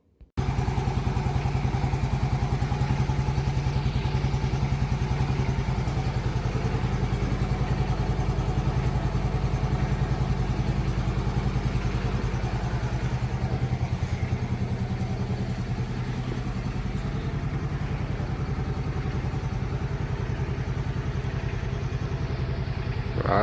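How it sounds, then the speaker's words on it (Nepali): A scooter carries two riders, its engine running continuously up close with a steady buzzing drone and light clatter that eases slightly midway before rising again. "स्कुटरमा जाने आज हामी।"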